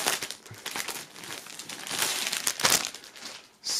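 A band shirt sealed in shrink-wrap plastic is unwrapped. There is continuous close crinkling and crumpling with irregular louder tearing bursts, and a sharper rip near the end.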